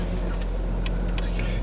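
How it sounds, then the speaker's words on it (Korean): A Porsche Panamera 4 E-Hybrid cruises on electric power alone, giving a steady low cabin hum and road noise with a few faint clicks and no engine note. "하이브리드 모드에 들어가서 이제 E파워 모드를 해서 전기로만 가보겠습니다"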